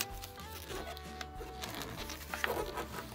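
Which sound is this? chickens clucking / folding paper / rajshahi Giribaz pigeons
folding paper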